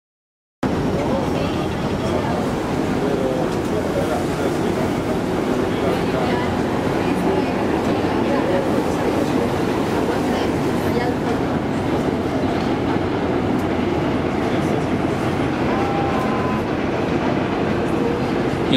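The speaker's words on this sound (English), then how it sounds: "that's the subway you hear on the Manhattan Bridge right now" A subway train rumbling continuously across the Manhattan Bridge, heard from a boat on the river below, a steady loud roar with faint rhythmic rail clatter.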